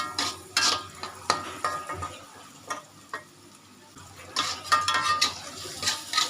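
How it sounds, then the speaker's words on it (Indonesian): Tempeh fries in a pan, sizzling unevenly close by while utensils clack and scrape against the pan in irregular bursts, with no voices. "Ini ya teman-teman, kita goreng tempenya dulu."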